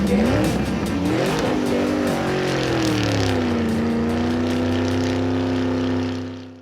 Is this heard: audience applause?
no